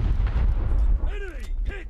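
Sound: torpedo hitting enemy ship in War Thunder Mobile video game

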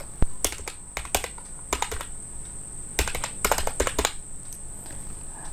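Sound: typing an ID on a computer keyboard

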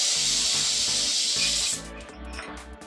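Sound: pressure cooker whistle releasing steam while cooking mung beans

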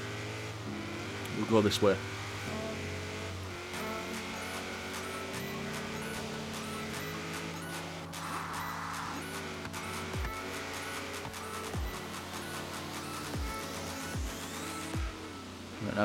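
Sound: Subaru Impreza (Scooby) engine in Forza Horizon 3 video game

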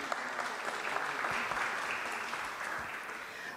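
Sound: applause for the prefect

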